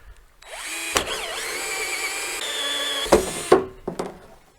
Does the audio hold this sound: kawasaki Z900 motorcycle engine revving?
no